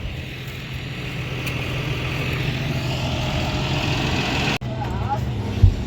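A farm tractor engine runs at a steady, loud diesel rumble heard from inside or close by during hay hauling, with a constant drone, a brief cut near the end, and voices talking over it.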